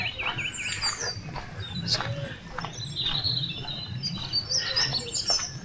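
A great tit and a dunnock sing outdoors, with repeated high chirps and twittering phrases carrying over a steady low background rumble.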